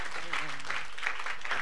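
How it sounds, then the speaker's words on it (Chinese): Audience applause at a gathering, a steady wash of clapping from a crowd with a voice talking over it throughout. "俾掌声，姊妹"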